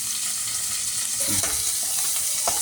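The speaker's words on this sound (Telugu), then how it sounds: "కొంచెం సాల్ట్ వేస్తే ఎర్లీగా ఫ్రై అవుతుంది, బ్రౌనిష్ కూడా వస్తుంది." Curry leaves and onions frying with a pinch of salt in a pan, a continuous close sizzle with a few stirring scrapes and one sharp clink near the end, no speech.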